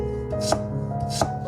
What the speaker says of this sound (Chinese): 首先準備一根紅薯，刮去外皮，清洗乾淨，再切成薄片，